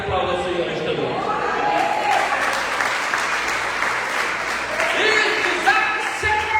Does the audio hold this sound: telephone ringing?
no